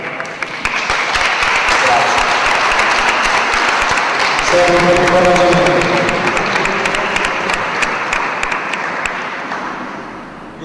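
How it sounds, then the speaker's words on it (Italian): Sustained, loud applause from an audience at a fundamentals demonstration in Alghero, Sardinia, filling the whole stretch with dense clapping while a voice speaks over it midway. "Magari dopo gli applausi,"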